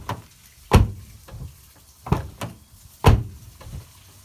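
Door of a Mazda Miata ND with new door bushings installed, shut several times in a row, each closing a solid, close thump with a short rattle after it and brief quiet gaps in between, no speech.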